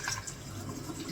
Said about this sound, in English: so I'm just going to rinse everything out